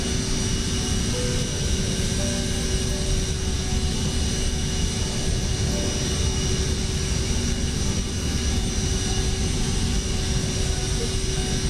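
Steady cockpit drone of a Bombardier/Mitsubishi CRJ 700ER jet airliner in Microsoft Flight Simulator, approaching Jayapura; a continuous, even engine and airflow roar with constant hum, no talk.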